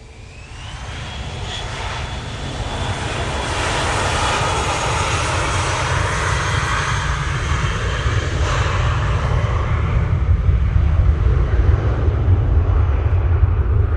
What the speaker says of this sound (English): And there we go, the Dassault Falcon.